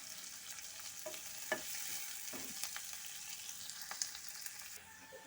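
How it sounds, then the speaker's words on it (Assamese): Chopped onions and a green chilli frying in oil in a pan for a prawn curry, a steady soft sizzle with occasional stirring scrapes and clinks, close and quiet, with no voices. "এইখিনি ৰঙা কৰি ভাজি ল'ব লাগিব।"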